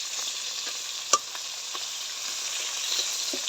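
Pabda fish frying in a pan, a constant close sizzle broken by a few soft stirring clicks and one sharp tap near the middle, with no talk.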